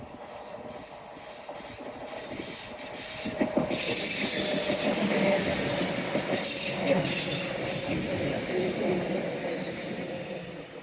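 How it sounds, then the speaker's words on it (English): A train runs along the coastal seawall at Teignmouth, its rumble and rattling wagons building up from a distance, staying strong through the middle, then slowly fading. Faint voices come through at times. "Bye bye, little train."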